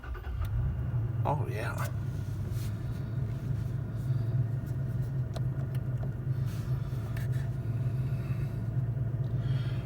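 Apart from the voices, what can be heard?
2019 Toyota Tacoma V6 engine starting and idling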